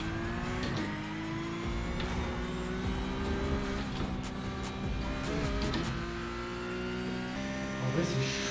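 Race car engine in a driving simulator game revving and accelerating steadily along a straight, a continuous loud drone with shifting pitch and faint tire squeal, no talking over it.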